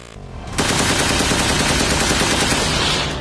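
A sudden burst of rapid automatic gunfire erupts after a brief lull and continues as a loud, dense, unbroken volley close at hand.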